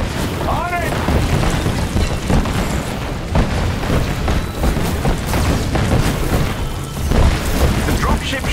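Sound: artillery explosions in the Avengers video game

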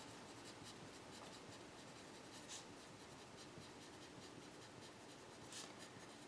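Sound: writing out by hand

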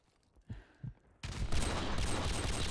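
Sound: sniper rifle shot in a shooter video game

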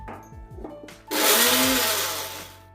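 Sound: mixer grinder grinding fried grated coconut with masala

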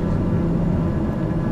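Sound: airplane engine in video game Microsoft Flight Simulator 2020

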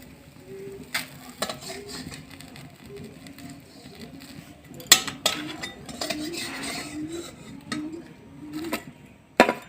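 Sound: pitha being flipped and lifted from the wok

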